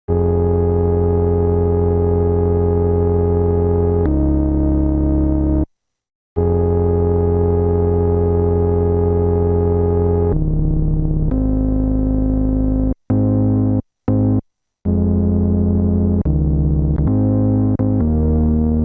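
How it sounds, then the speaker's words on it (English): A Moog Subsequent analog synthesizer plays sustained chords that change every few seconds, loud and close, with a few short gaps of silence between phrases. "the Moog subsequent we have over there, which is a really cool analog synthesizer"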